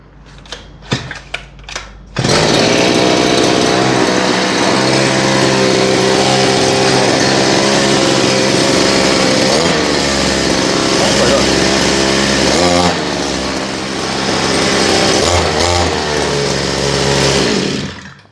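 A bicycle fitted with a soil auger's small two-stroke engine is pulled to a start after a few sharp tugs, then runs loud and raspy nearby, revving and briefly easing off before climbing again.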